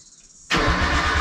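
A Nissan RB20 engine cranks and catches about halfway through, jumping from near quiet to a loud, close, rough running roar that holds steady to the end.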